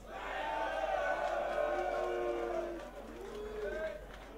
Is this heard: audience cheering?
yes